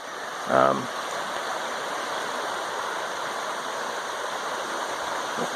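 Steady broadband rush of creek water running high after heavy rain at a gold camp outing, constant and moderately distant, with a brief louder splash near the start.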